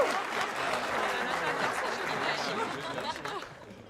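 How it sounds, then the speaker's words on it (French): A crowd applauds pastry chefs at a dessert contest, the clapping mixed with lively chatter and a speaking voice, fairly close, tapering off toward the end. "Un tonnerre d'applaudissements pour nos chefs pâtissiers."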